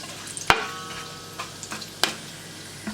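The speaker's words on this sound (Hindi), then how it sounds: "ये अच्छी तरह बीच में आप हाई फ्लेम पर 1 आधा मिनट के लिए अच्छे से भून लीजिएगा" Whole spices, black pepper and cloves, roasting in oil over a high flame: a steady low sizzle broken by two sharp metallic clanks of a spoon against the pan, with no voices.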